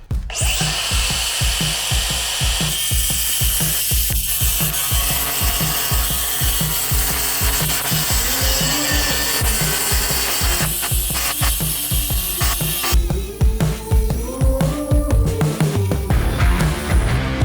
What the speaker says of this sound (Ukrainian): давайте спробуємо, як вона штрубить бетон, чи не зупиняється